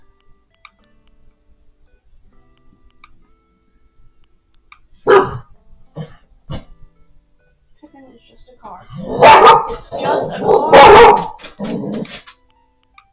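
A pet dog named Pippin barks indoors in a few sharp bursts, sparse at first and then a louder cluster near the end, with a person talking nearby between the barks.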